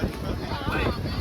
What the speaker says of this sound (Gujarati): બહુ ખતરનાક વાળો પવન આવે છે